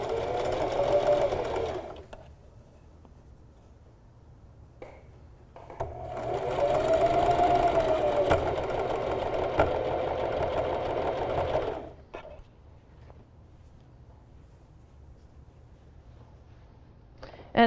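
A sewing machine fitted with a regular size 11 needle stitches tightly knit T-shirt fabric, running in two close, steady bursts, a short one and a longer run of about six seconds, separated by quiet pauses.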